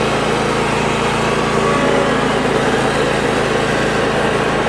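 Husqvarna and Craftsman riding lawn mower engines run steadily at close range, a continuous buzzing drone that stays loud and even throughout, with no talking.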